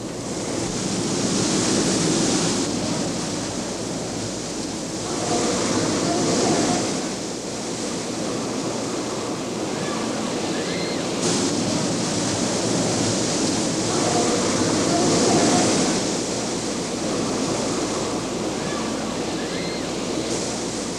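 A staged flash flood on a 1984 studio tour, with 10,000 gallons of water released from large hillside tanks, makes a loud, steady rushing roar that swells and eases in waves over the whole stretch.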